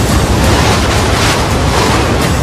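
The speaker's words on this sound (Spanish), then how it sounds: "un huracán de categoría 5 llega a tierra con olas de 18 metros" A Category 5 hurricane making landfall, with 18-metre waves and 265 km/h winds, produces a loud, unbroken roar of crashing surf and gusting wind that fills the whole stretch with no voices.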